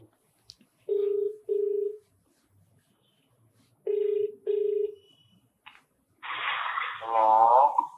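A phone call rings out over a loudspeaker in two pairs of electronic ring tones separated by silence, followed by a burst of noisy line sound as a voice answers.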